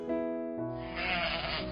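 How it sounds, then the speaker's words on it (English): Sheep bleating in a pastoral setting, a steady wavering bleat held close and loud, then a second overlapping bleat joining in, with no talking. "Yaakov continued to faithfully tend to Laban's sheep"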